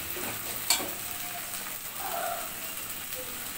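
Ginger, garlic and cumin paste frying in a pan with fried onion and garlic cloves, giving a soft steady sizzle with one sharp utensil click near the start, no talking.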